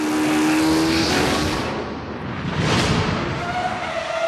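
Formula One car at nearly 230 km/h approaching Imola's Tamburello Bend in a reconstruction of Ayrton Senna's run, a loud, sustained engine roar with rising and falling pitch, close and continuous with no voices.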